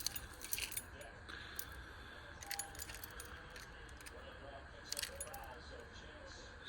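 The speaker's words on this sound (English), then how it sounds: "There's my keys, and there's my multi-tools." Keys on a keychain loaded with multi-tools jangle and clink in scattered bursts, close and fairly quiet, with metal rattling between brief pauses.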